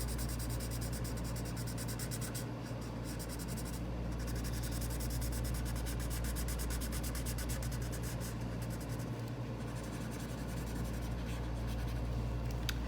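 Marker strokes scratching and rubbing across paper during coloring, a soft continuous scraping texture with small rhythmic bursts, close and steady with no talking.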